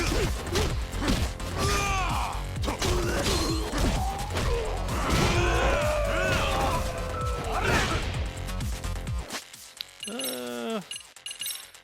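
Combat in the Lost Judgment video game as enemies are struck with a pipe, a dense run of smashes, thwacks and whooshes over game music, ending with a quieter tail.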